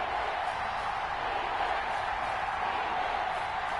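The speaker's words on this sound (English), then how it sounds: "The crowd getting into it as we come up on a big 3rd down." Stadium crowd noise from a Madden 21 football game builds ahead of a big third down, a steady broad roar of cheering that holds at even loudness throughout.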